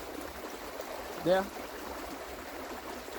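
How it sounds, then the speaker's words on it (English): A fast-flowing tributary of the Nairobi River rushes past nearby as a steady broadband wash, with a brief spoken word over it partway through. "The water is flowing quite fast next to me here"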